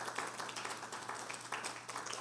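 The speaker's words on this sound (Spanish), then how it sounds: "¿Cuánto le damos una ofrenda de palmas al Señor?" Church congregation clapping together as an offering of praise during a service, a continuous, even wash of many hands heard faintly and at a distance.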